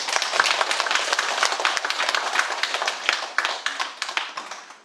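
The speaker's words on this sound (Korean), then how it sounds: "우리 교주 불세존 석가모니 부처님 박수 쳐야지." Audience at a Buddhist sermon clapping hands in sustained applause, dense and steady from start to finish, many hands close by with no talk.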